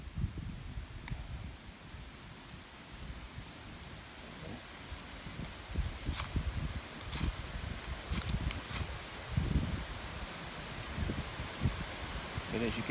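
Gusty wind blows outdoors in the South during a fire ban, buffeting the microphone with a steady low rumble and occasional stronger gusts, alongside faint rustling.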